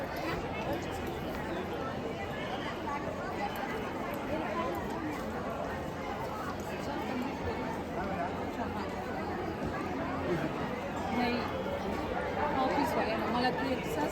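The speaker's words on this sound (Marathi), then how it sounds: "तर इथे पण अशी गर्दी आहे भरपूर" Dense crowd babble at a packed place on Shivratri, a continuous murmur of many overlapping voices, steady and moderately loud throughout with no single speaker standing out.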